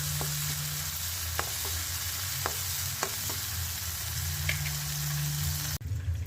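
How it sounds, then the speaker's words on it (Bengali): Onions fry in a pan, browning, with a steady soft sizzle and scattered sharp clicks of a utensil stirring, close and fairly quiet, with no talking. "পেঁয়াজগুলো একটু ব্রাউন করে ভেজে নেব"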